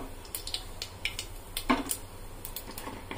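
Whole cumin seeds crackling in hot mustard oil, a faint scattering of sharp little pops and ticks, irregular and close, with one brighter sizzle partway through and no voices.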